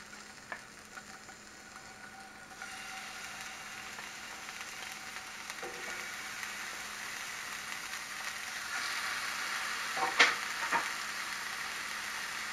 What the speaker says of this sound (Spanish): La cacerola está previamente caliente y tiene aceite. Ok, entonces lo vamos a sellar.